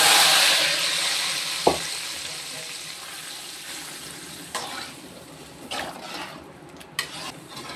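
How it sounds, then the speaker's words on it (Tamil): Hot tempering poured into a chana dal curry sets off a loud burst of sizzle that settles into a steady frying hiss, with a few sharp clatters of a pan or ladle. "இப்போ தாளிச்சதை நம்ம தூக்கி ஊற்றிடுவோம்."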